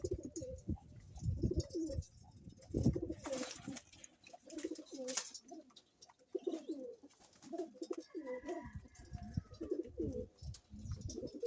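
Fancy pigeons in a loft coo repeatedly in soft, rolling phrases, several birds overlapping at close range, with a few faint chirps in between and no talking.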